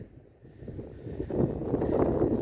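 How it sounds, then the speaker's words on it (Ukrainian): Low, rumbling winter wind buffets the microphone outdoors in a vegetable garden, growing stronger and gustier in the second half, with no voices. "Надіюсь, вітер вам не заважає."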